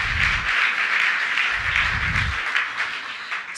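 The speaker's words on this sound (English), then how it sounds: "let's give a big round of applause for Eleanor Holmes Norton." Audience applause at an Emancipation Day breakfast, a steady wash of clapping lasting several seconds and fading slightly at the end, with low murmurs underneath.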